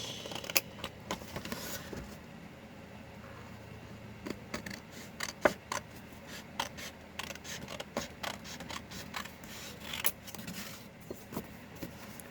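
Scissors cut around the edge of a paper envelope, giving a series of close, crisp snips and paper rustles spaced unevenly through the quiet stretch.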